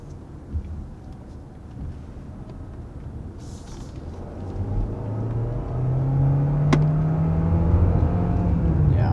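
A 2022 Hyundai Tucson Hybrid accelerates hard, its engine note building from a low rumble into a rising, steadier drone with distinct gear shifts, heard from inside the cabin with no talk.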